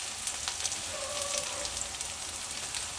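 Green onions and shredded cabbage stir-frying together for a cauliflower dry Manchurian, giving a steady, close sizzle with light crackles throughout and no talking.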